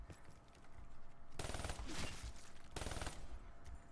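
Two loud bursts of rapid light machine gun fire in Black Ops 3 Zombies, each a dense rattle of shots about a second long, separated by a short gap, with game noise underneath.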